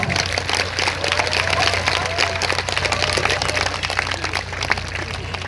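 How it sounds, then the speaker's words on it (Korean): An audience at an outdoor symphony concert at Suwon Hwaseong's Yeonmudae gives sustained, dense applause welcoming the conductor, steady and fairly loud with a low hum underneath. "마에스트로 박지훈님 뜨거운 박수로 환영해 주시죠"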